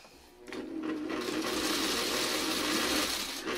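Sewing machine stitching fabric along a seam, starting after a brief pause and then running steadily and close for about three seconds, a continuous whirring stitch with no talking.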